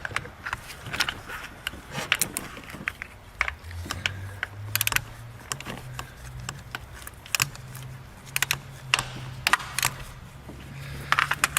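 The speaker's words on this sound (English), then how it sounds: "Now I'm going to remove these coil packs. There's 3 of them, and this is a number 6 Allen right here" Ratchet with an Allen socket loosening the coil pack bolts on a Honda J-series V6, repeated quick clicking pawl bursts and metallic tool taps close up, with a low hum underneath and no talking.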